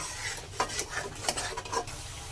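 Ground spices with turmeric and salt sizzle in hot oil in a pan for chicken rezala, stirred with a utensil in quick scraping strokes over a steady frying hiss.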